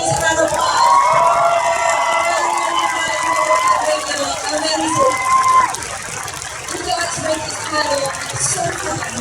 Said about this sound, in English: can we please have an amazing round of applause?